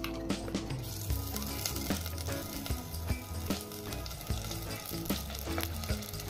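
Masala dropped into hot oil tempered with cumin for a drumstick curry sizzles densely and continuously, with scattered crackles and stirring clatter close up, fairly quiet overall, no speech.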